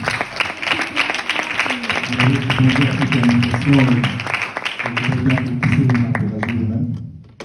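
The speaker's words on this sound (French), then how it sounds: "Est-ce qu'on peut applaudir pour tout le monde?" An audience at an entrepreneurship conference applauds with steady, dense clapping that continues for several seconds and then tapers, while a voice talks over it.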